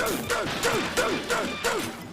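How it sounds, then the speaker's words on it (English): Cartoon smashing of a computer in a SpongeBob scene, with Patrick wrecking Mr. Krabs' machine: a rapid series of about five rhythmic crashing blows, each with a springy, twangy bounce, loud and close. "Here's Patrick smashing Mr. Krabs' computer."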